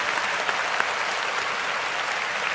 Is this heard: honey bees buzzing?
no